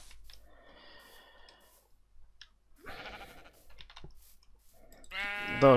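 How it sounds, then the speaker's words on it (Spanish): Sheep bleating in the video game Minecraft: a couple of short synthetic bleats, the last one loud and close, separated by quiet gaps, with no talking over them. "si veo alguna oveja, la mato. Pero no va a ovejas, ¿verdad? Ah, pues sí, hay una por aquí"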